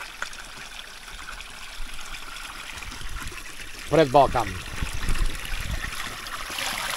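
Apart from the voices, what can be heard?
water flowing abundantly from village fountain spouts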